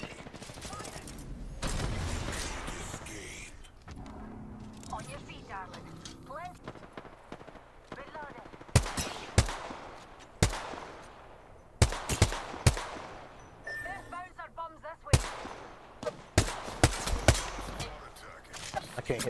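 Bursts of gunfire from the video game Apex Legends during a ranked match: repeated sharp shots in clusters of rapid bangs, loud and close, with someone talking over the shooting.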